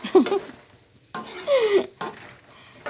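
Peanuts being stirred while they cook in a pan over a wood fire, giving a few short bursts of scraping and rattling with pauses between them, close by.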